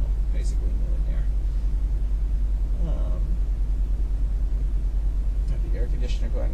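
A 1995 Lincoln Mark VIII idles with the air conditioner running, a low steady rumble with a slightly rough pulse, heard up close, while someone talks over it intermittently.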